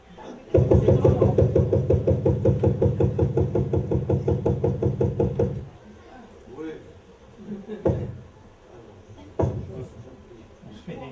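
A loud recording of a song with a briskly pulsing beat that stops abruptly, followed by quieter talk and a few knocks.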